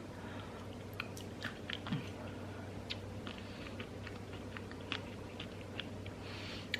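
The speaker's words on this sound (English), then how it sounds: "I'm just gonna have a couple more bites" Close, quiet chewing of bites of food with peanut butter and maple syrup, a steady run of soft, irregular crunching and squishing mouth sounds with no talk.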